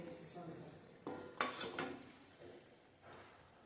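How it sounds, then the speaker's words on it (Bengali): A metal lid comes off a pot of Bengali potato and pointed-gourd chorchori cooked with fish oil, giving a couple of soft clanks and scrapes over quiet kitchen room tone. "এইবার ঢাকাটা খুলে দেখার পালা।"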